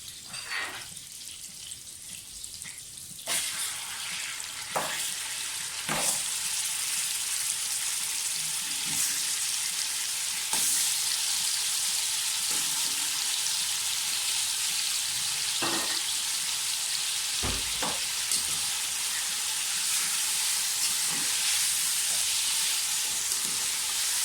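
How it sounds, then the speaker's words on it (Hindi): Mutton browning in melted butter in a pan, a steady loud sizzle and hiss of frying throughout with occasional stirring clicks and scrapes. "गोश्त की बुनाई अच्छी तरह से करें।"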